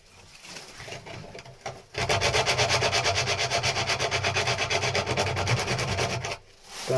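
Hand sanding on the underside of a boat deck: steady, rapid back-and-forth rasping strokes, close and loud, running for about four seconds after a quieter start and stopping abruptly.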